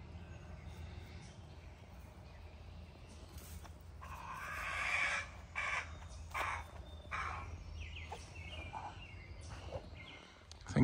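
A bird squawks and calls several times at moderate distance over steady outdoor background noise, with harsh bursts clustered mid-clip.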